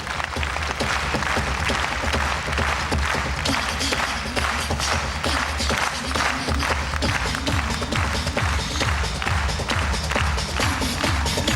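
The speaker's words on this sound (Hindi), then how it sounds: "जोरदार तालियां" Sustained applause from a large audience at a national convention awards ceremony, dense steady clapping throughout, loud and continuous with no talk over it.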